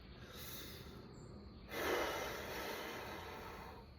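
A single soft, breathy exhale during a guided meditation, faint and close, drawn out over a couple of seconds with a gentle rise then slow fade, with no talking.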